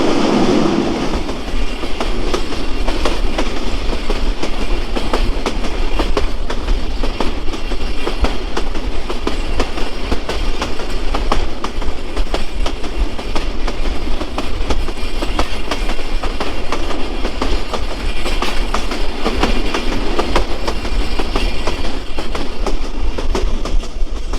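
Kurigram Express rolling along the rails at about 65 km/h, heard on board: a loud, unbroken rumble with steady clickety-clack from the wheels, no voices.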